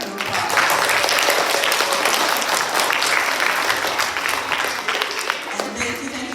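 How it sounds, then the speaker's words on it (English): A school audience at a flag presentation gives a big round of applause, loud dense clapping throughout, close and continuous, with a few cheers mixed in. "We give them all one big round of applause."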